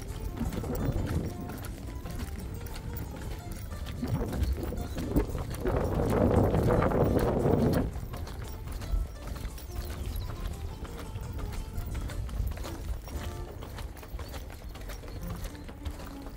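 Hooves of a racehorse being exercised, a continuous rapid drumming of footfalls mixed with wind and movement noise, steady throughout and swelling louder midway.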